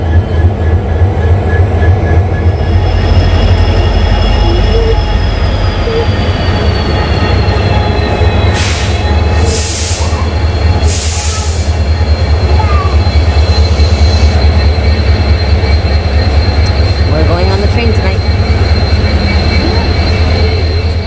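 A train in India bound for Howrah rumbles steadily along the rails with a constant low roar, faint squeals and clicks from the wheels, and brief hissing bursts midway.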